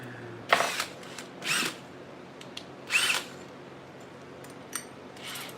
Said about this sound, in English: Putting in an auger.